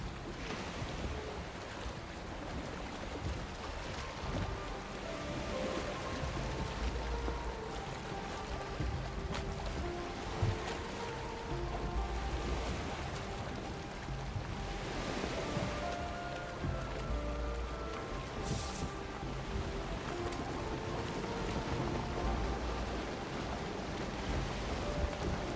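A boat sailing on water in an online game, a steady wash of splashing and rain-like hiss with rolling surges, continuous and fairly soft, with no talking.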